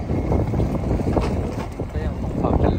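Steady, loud wind buffets a microphone outdoors in Delft, the Netherlands. The roar is continuous with gusty swells, and a voice speaks faintly underneath.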